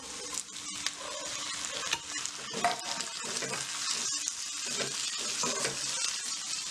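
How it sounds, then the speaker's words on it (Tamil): Onions and tomatoes sauté in a pan for a North Indian Punjabi lunch dish. A steady close sizzle and crackle runs throughout, with scraping stirs and small clinks of a spatula on the pan. Nobody speaks. "இதுவும் நல்லா வதங்கட்டும்."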